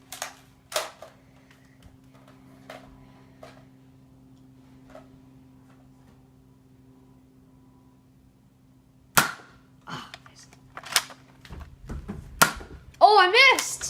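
A Nerf gun fires a few sharp, clicky shots during an indoor Nerf war, sparse at first and then a quicker cluster near the end, with a voice briefly heard.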